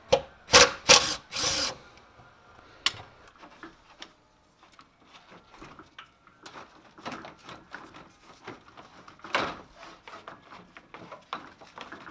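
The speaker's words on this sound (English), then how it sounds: "just go ahead and remove this fastener out of the way" A fastener being removed from the radiator fan assembly of an Infiniti G35 coupe: a few sharp close clicks and clatters, then a quieter series of ratcheting ticks and small tool knocks.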